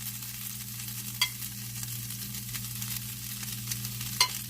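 Vegetables with fajita seasoning sizzle steadily in a pan for steak fajitas, a soft continuous crackle under a low kitchen hum, with a couple of sharp clinks of a utensil against the pan.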